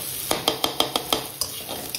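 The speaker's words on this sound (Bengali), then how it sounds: "আদা বাটাটা দিয়েও ভালো করে একটু নাড়াচাড়া করে দেবো," Ginger paste stirred and fried in a pan for a vegetarian biryani: about seven rhythmic, distinct spatula scrapes and clinks over a soft continuous sizzle, close and alone.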